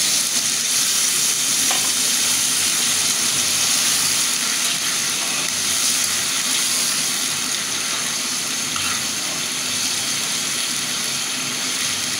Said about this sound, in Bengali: আমি একটু গরম পানি দিয়ে দিলাম।